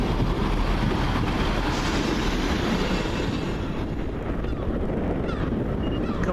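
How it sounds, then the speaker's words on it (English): A First Great Western Cardiff-to-Taunton train pulls into Bristol Temple Meads with a steady, dense rumble and rail noise filling the whole span, fairly loud and constant, with no voices. "Coming in, the Cardiff Taunton train, first Great Western service, 15129"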